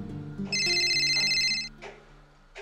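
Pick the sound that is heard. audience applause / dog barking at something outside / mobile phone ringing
mobile phone ringing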